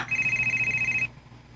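An incoming call rings a telephone in one short electronic trill of rapid pulses. It is clear and close and then stops abruptly.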